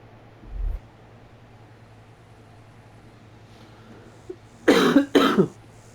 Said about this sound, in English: I'm still fucking coughing